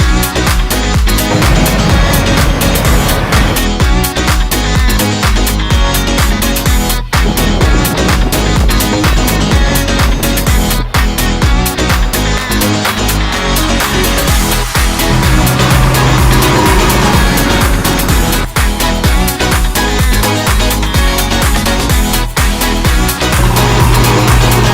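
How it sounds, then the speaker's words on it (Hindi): A JCB backhoe loader runs at full speed, its engine a loud, steady, close roar that holds unbroken throughout with slight surges and no speech. "गाइस अभी तो जेसीबी अपनी फुल स्पीड पर चल रहा है।"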